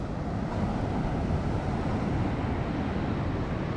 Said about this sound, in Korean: 야 파도도 기가 막히네.